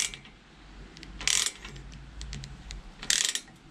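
A hand tool is turned to pull up a fastener while fabricating intercooler mounting brackets for a Toyota Starlet 4E-FE, giving soft close ratcheting clicks with two brighter metallic bursts over a quiet hum.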